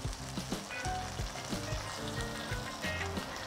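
Halved head of garlic frying in a pan, steady close sizzle with crackling pops throughout, no talking.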